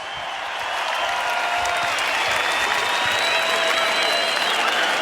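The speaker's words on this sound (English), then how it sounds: "let's get a nice round of applause out here for both of these fighters" Boxing arena crowd in Dublin, Ireland, applauding both fighters after a ten-round title bout, a loud dense wall of clapping and cheering that swells within the first second and then holds steady.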